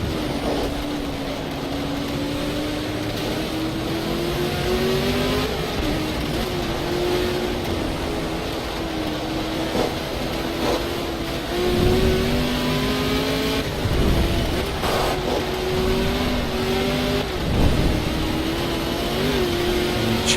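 A racing car engine in a racing video game accelerates hard, its loud, steady whine climbing in pitch through repeated upshifts and dipping briefly when the revs fall, then rising again, with no talking over it.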